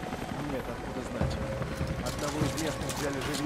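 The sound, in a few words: helicopter in the video game Rise of the Tomb Raider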